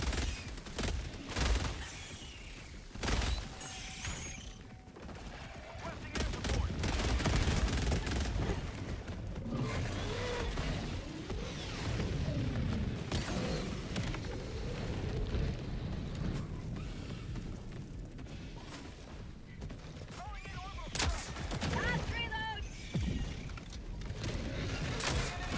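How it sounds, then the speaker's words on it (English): Expendable machine gun fire in Helldivers 2, with dense bursts of rapid shots and mechanical clatter running through a busy, loud battle mix and occasional voices. "I do love this expendable MG though."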